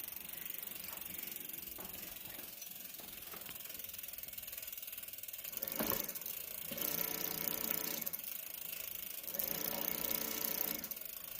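Electric conversion hub motor on a Schwinn Axum bicycle spinning under throttle, a steady whirring drone with ratcheting mechanical clicks, surging louder in two bursts and otherwise holding an even level without talk.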